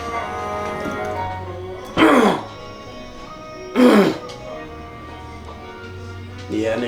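Two loud, harsh coughs a couple of seconds apart, with a third starting at the end, over a low background hum.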